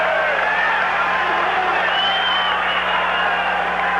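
Spectators at a college men's basketball game between Angelo State and Abilene Christian keep up a loud, sustained cheer, a thick continuous roar filling the arena from start to finish.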